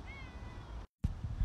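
A street cat that climbed down a wall meows softly with a short, faint rising call early on, heard over low rumbling outdoor background noise, with a brief dropout before the noise resumes.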